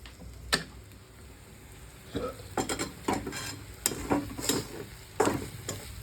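Masala and coconut are sautéed in a pan for chicken gravy, with a spoon scraping and stirring in repeated sharp strokes over a quiet sizzle, close and fairly loud.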